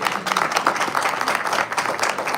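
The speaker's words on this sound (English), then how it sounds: "Big round of applause" An audience at a live show in Calgary breaks into sustained applause, a dense, even wash of many hands clapping close by, with no voices standing out.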